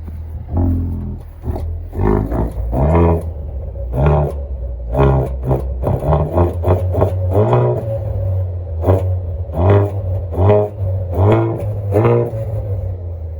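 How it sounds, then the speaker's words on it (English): A deep car engine rumbles and revs repeatedly through quad exhaust pipes, rising and falling in throaty bursts, loud and close, with no talking. "let me show y'all what those 4 pipes sound like"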